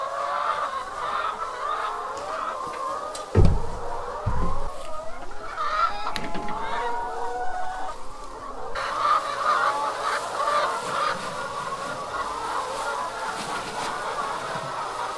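Chickens cluck and call steadily around a henhouse during egg collection, a busy overlapping flock sound with a few louder nearby thumps partway through.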